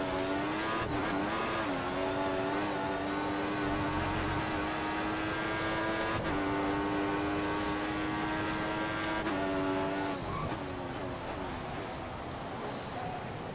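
V6 turbo Formula 1 cars from F1 2014 race around the Valencia street circuit, their high engine whine holding steady, dipping as they shift gears and then climbing again. The engine noise is loud and continuous, and no one speaks.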